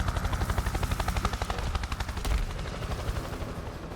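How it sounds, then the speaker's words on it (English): In a Mortal Kombat guest fighter intro a helicopter thrums loudly with rapid rotor chops, close and steady, followed by a deeper rumbling burst, with no one talking. "getting dropped into the battle from a helicopter"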